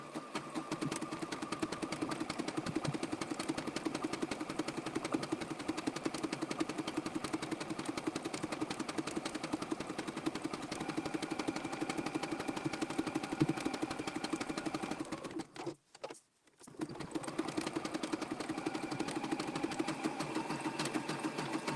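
Sewing machine stitching appliqué around a curve, its needle running in a steady continuous whir that breaks off briefly as the needle drops and the fabric is pivoted, then carries on stitching.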